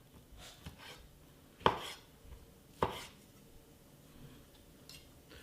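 A knife coarsely chopping figs on a board for Italian fig bread, with two sharp, close chops standing out among softer cutting and handling noises.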